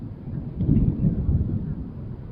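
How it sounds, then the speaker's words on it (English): Low, distant rumbling thunder rolling over an outdoor tennis court during a collegiate playoff match under a weather delay, a soft sustained grumble. "that certainly sounds like thunder to me"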